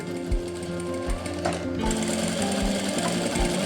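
Sewing machine stitching piping onto a kurti, a steady close mechanical whir with rhythmic low thumps of the needle running continuously.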